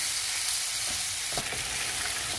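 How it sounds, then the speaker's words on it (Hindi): Beef sizzles steadily in a hot pan while it fries down for a curry until its own juices cook off, a close, continuous crackle with a few soft stirring knocks and no talk. "बीफ को हम इतना पकाएंगे कि इसका अपना पानी फ्राई हो जाए।"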